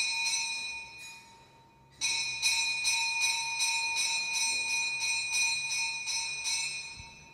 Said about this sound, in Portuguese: Todos os dias nós acordamos com o despertar dos sinos, às 5 da manhã